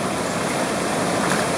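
Floodwater from PopesHead Creek rushes over its banks near a bridge outside Clifton after heavy rain. The roar is a loud, steady, broadband wash with no pauses.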